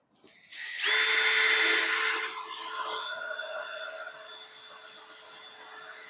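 A power drill fitted with a 1/8 inch bit bores a pilot hole in a mailbox face plate, giving a loud, close, high whine that holds for a few seconds, then drops to a lower, softer pitch as it winds down.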